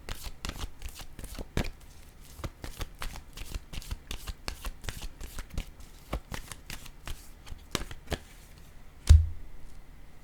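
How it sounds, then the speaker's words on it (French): A deck of tarot cards is shuffled with a long run of rapid crisp card riffles and snaps, close and fairly steady, ending in one sharper louder slap of a card being drawn. "Attendez, je vais piger une autre carte."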